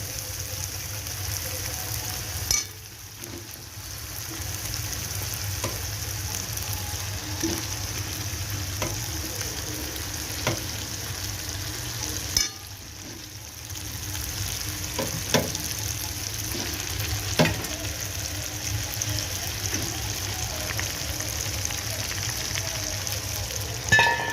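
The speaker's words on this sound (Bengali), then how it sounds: "চিকেনটা দিয়ে এবার ভালোভাবে কষাবো।" Chicken pieces sizzle and fry in hot spiced oil, with a continuous close crackle and periodic stirring scrapes and knocks.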